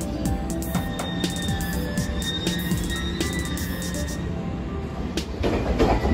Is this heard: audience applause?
no